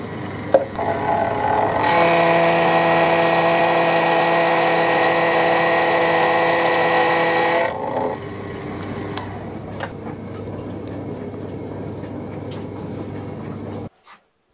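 A machine cuts a groove in a narrow, flexible toolmaker's jack part on its final shallow finishing pass. A steady, loud, high whine holds for about six seconds, then drops to a quieter hum before stopping.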